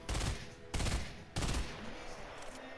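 Video game gunfire: three quick bursts of rapid shots about half a second apart, sharp and fairly close, the last trailing into a quieter tail with no talk.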